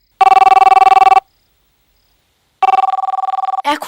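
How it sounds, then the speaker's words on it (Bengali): A telephone rings indoors in a movie scene, two loud bursts of rapid trilling bell separated by a pause of about a second and a half, with a brief voice starting right after the second ring. "এখন আবার কে ফোন করছে?"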